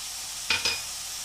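Chicken egg fried rice being stirred and fried with spices in a hot pan, a steady close sizzle broken by two quick metallic scrapes of the spatula, no voices.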